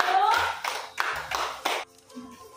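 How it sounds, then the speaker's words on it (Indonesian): A fifth-grade classroom of children claps for group 3 in several quick bursts of rhythmic applause, close and lively, with faint children's voices mixed in. "tepuk tangan untuk kelompok 3"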